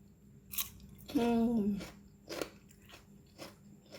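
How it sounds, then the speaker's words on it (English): Someone crunches into raw cucumber eaten with sambal belacan, giving a few sharp, close bites and chews, with a voice briefly audible in the middle. "You can also eat it with raw cucumber, just like that."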